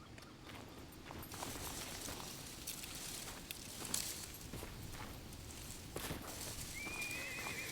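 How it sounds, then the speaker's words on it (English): A horse in the survival video game SCUM whinnies and its hooves clip-clop steadily, all quite faint and distant, with a rising neigh near the end over low ambient noise. "Oh, it's a fucking horse."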